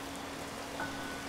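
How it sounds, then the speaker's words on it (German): Steady rain in the Thief Simulator video game, a soft even patter on surfaces at the moment of entering a horror house, faint and constant with no voices. "jetzt regnet es hier, kaum betrete ich das"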